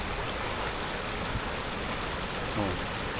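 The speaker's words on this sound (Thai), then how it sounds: "ยืนชมวิวน้ำตก" A forest waterfall rushes in a dense, steady broadband hiss, close and continuous with no breaks, with faint voices underneath.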